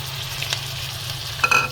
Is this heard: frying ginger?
yes